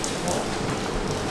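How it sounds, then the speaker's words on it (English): Rain comes down while someone walks outdoors, a dense, even hiss of falling drops close around the listener, continuous for the whole moment. "apparently we're walking now under the rain"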